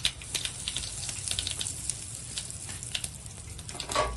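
Mustard seeds sizzling and popping in hot oil in a pan while cooking Telugu wedding-style charu, a close, steady crackle with dense, rapid little pops throughout.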